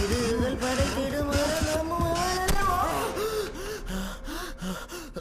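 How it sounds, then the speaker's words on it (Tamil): Heavy, rapid gasping breaths from a man straight after a song, close and loud over lingering background music, with no talk. "நான் பாடினதுக்கு இவன் எதுக்கு மூச்சு வாங்குறா?"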